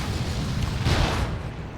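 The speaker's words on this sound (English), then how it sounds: "Venom Cannon's doing work, eh?" Venom Cannon explosions in the real-time strategy game Dawn of War 2 form a dense, rumbling battle roar with a heavier boom midway, loud and continuous.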